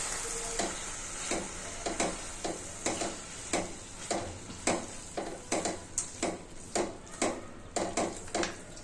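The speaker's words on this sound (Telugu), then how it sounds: "స్టవ్ బంద్ చేసి అంతా కలిపేసాను." Bottle gourd halwa with dry fruits is stirred in a pan after the stove is turned off, a spoon scraping in a steady rhythm of roughly a dozen close, distinct strokes over a soft sizzling background, with no talk.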